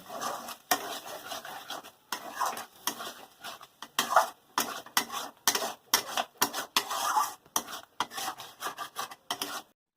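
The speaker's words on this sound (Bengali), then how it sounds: "এবার আমি ভালো করে মশলাটাকে কষিয়ে নেব।" A spoon stirs and scrapes a spice paste with tomato and ground masala as it fries in a pan for a green jackfruit curry. The strokes are rhythmic and close, with a faint sizzle underneath and no voices.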